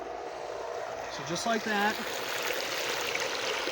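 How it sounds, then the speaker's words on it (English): Intex 1500 gallon-per-hour pool filter pump running, moving water with a steady, close rushing hiss that goes on throughout, and a brief spoken phrase over it. "And I'm just going to turn this thing to on. And there we go. We're moving water."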